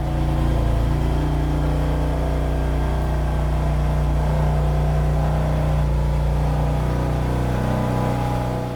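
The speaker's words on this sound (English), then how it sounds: "once it's warm, it's almost silent with the idle" A warmed-up BMW M2 Competition idles with a steady low hum that holds evenly throughout, close and unbroken, with no voices.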